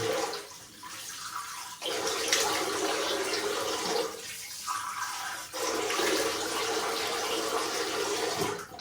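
Cold tap water runs and splashes steadily into a basin while someone rinses after a shave with a Feather artist club shavette, in bursts with short pauses between them, with no talking.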